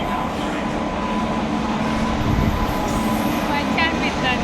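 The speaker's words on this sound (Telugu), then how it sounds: "ఇప్పుడే ట్రైన్ వస్తుంది." A train pulling into Warangal railway station, a steady, fairly loud rumble of rolling coaches and wheels that holds evenly throughout, with faint squeals near the end.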